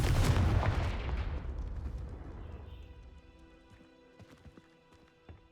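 Confringo fire spell cast in Hogwarts Legacy: a loud, booming fiery blast that rumbles and slowly fades over a few seconds, followed by scattered light clatter and debris ticks.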